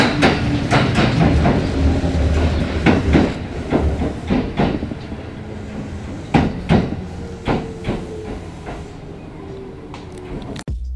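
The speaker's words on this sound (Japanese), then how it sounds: "大阪線と合流し、列車は終着の伊勢中川に到着。" A Kintetsu Nagoya Line train arrives at the Ise-Nakagawa terminus after joining the Osaka Line, with a loud rumbling run, clattering wheel clicks over rail joints and squealing tones as it slows, then fading to quiet.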